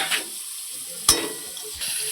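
Freshwater snails dropped into a pan of fried onions, giving a steady sizzle with one sharp splashing burst near the middle and a softer clatter toward the end, no voices.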